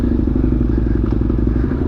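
KTM 1290 Super Duke motorcycle engine idling or running close by, a loud steady low rumble with a dense rhythmic pulsing throughout, heard alone with no talk.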